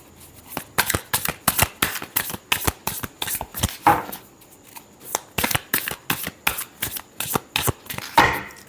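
Tarot cards shuffled by hand in a run of quick, crisp riffling bursts with short pauses between them, close and clear with no talking.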